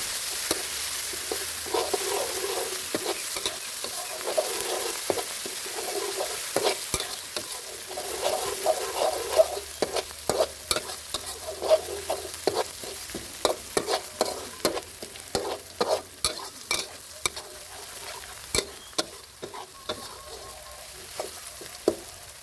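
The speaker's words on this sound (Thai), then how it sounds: "แล้วนำพริกกับกระเทียมที่เราตำรวมกันมาผัดให้หอมก่อนนะครับ" Pounded chili and garlic stir-fried in a little vegetable oil, with a low sizzle under sharp, irregular scraping clicks of a spatula against the pan, getting busier toward the end; no talking.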